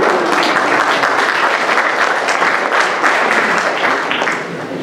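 Sustained loud applause from an audience at a lecture honouring Josu Elorriaga, dense continuous clapping filling the room for several seconds before easing slightly at the end.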